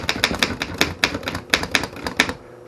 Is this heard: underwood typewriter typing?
yes